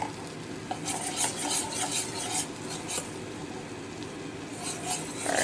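A thickening batter with milk, for a homemade sourdough pizza, is stirred in a bowl with a steady rasping, scraping rhythm, close and moderately loud, with no talk.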